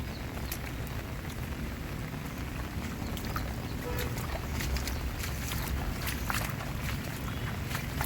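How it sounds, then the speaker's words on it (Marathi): Steady rain pours over a natural farm field after a full day of rainfall, a dense even hiss with scattered sharper drops and no speech. "मस्त पाऊस पडला"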